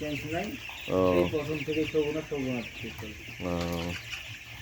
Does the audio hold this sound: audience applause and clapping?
no